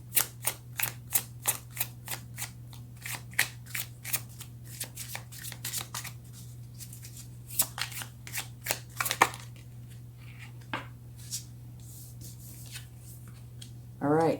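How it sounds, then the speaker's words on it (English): Tarot cards are shuffled by hand in a quick run of crisp riffles and flicks, then a few slower taps against a steady low hum, close and fairly quiet with no talking. "now let's get a card for the outcome."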